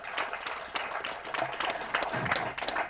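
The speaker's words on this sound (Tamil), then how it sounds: "வினோதுக்கு ஒரு பெரிய கைத்தட்டல்" An audience at a trailer launch event gives a brief burst of applause, with dense, moderately loud clapping that carries through the whole moment and possible faint voices mixed in.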